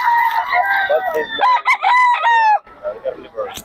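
A gamefowl rooster at a seller's stall in Bocaue crows loudly and close by, giving one long drawn-out call. Brief clucks and a bit of background noise come before and after it.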